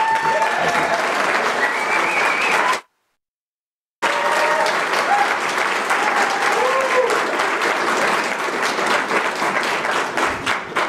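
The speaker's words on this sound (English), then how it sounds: "I think we all owe a round of applause to Senator Mike Crane and Tracy." Supporters at a Georgia primary runoff victory event applaud in a sustained burst of dense clapping, briefly cut by a second of silence, then resuming just as strong with some voices mixed in.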